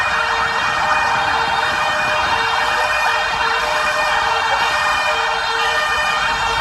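An ambulance siren wails loudly and continuously at a simulated traffic accident exercise involving firefighters and emergency medical services, its pitch sweeping steadily with road vehicle noise underneath.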